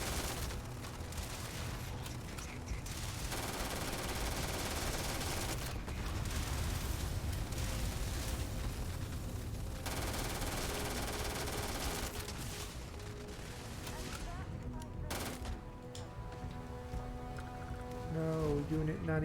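Rapid automatic gunfire from a weapon emptying a 40-round magazine in the space shooter Starfield, dense sustained bursts with game effects and speech running underneath.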